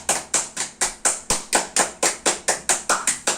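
Evenly spaced claps, about four per second, sounded by a livestream's assistant effect: a crisp, dry rhythmic applause with no talking.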